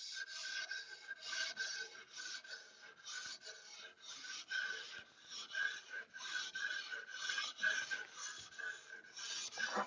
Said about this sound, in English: Now we're going to start moving down the blade some more.